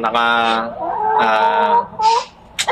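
Nearby hens cluck and call in loud, harmonic bursts, with a Jersey Giant rooster among them, several distinct vocalizations spaced across a few seconds.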